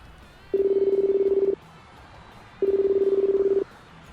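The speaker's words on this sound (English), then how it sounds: "Answer the phone, please." A telephone rings twice, each steady electronic tone lasting about a second with a pause between, close and clear over a quiet room background.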